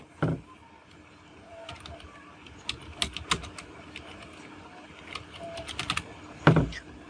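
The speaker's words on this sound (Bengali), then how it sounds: "যেমন আমি এখন কিবোর্ড থেকে টাইপ করে দিচ্ছি" Keys clack on a computer keyboard in scattered bursts of quick taps, close and crisp, with a couple of louder thumps at the start and near the end.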